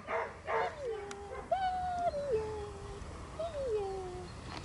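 Young puppies give a series of high, sliding whimpers and short yips, close by and fairly soft, with a few faint voices in the background.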